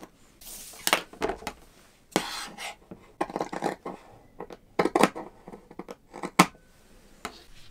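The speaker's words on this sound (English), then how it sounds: "I think I'm just gonna cut a little bit away from the top on an angle and go down." Sharp scissors snip through fabric for a hat brim in a quick series of close crisp cuts, some in short rapid runs and others single, with soft rustling of the cloth between them.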